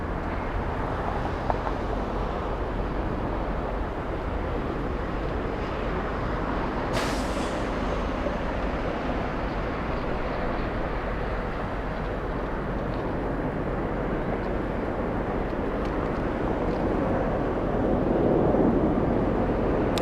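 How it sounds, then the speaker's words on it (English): A Delta airliner departs on runway 8 right at Atlanta airport, heard as a steady distant jet roar that swells slightly near the end, with no talk. "Delta 602 flying to Mexico City. And it looks like it's going to be departing on runway 8 right."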